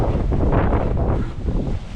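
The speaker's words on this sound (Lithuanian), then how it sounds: "Didelis vėjas." Strong wind at a campsite in Spain buffets the microphone in a steady, loud roar with rustling gusts, continuous throughout and fading slightly near the end.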